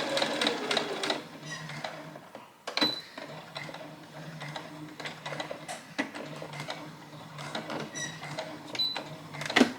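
A domestic sewing machine runs a straight stitch on fabric for a Christmas party dress, its quiet mechanical whirring and clicking coming in short uneven bursts close by.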